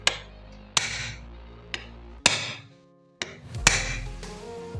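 Five or six sharp, ringing hammer blows land on a hardware wallet at uneven intervals, each followed by a short metallic decay.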